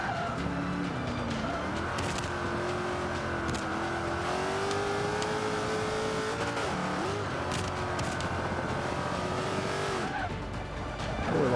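A Range Rover in the Forza 5 racing game on the Indy GP track, its engine droning steadily with rising and falling pitch as the tires squeal and lock up under braking, continuous and loud throughout.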